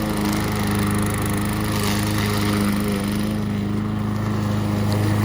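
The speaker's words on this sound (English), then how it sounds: "We can just mow the leaves and leave them in place" A lawn mower mowing fallen leaves in a garden, its engine droning loud and steady close by with a constant whirring blade hum.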